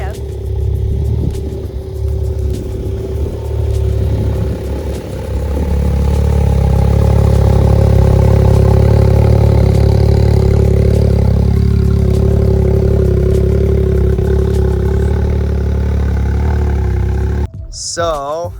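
A custom Can-Am Maverick X3 engine with a Magnaflow dual exhaust idles, then swells into a sustained loud rev with a deep droning rumble before cutting off sharply near the end, with people talking nearby.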